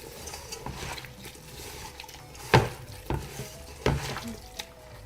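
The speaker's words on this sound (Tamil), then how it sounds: "நல்லா மிக்ஸ் பண்ணணும்" A chicken marinade is stirred by hand in a bowl, giving wet squelching and mixing sounds with a few sharper knocks against the bowl, close and fairly quiet.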